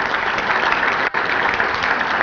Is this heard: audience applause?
yes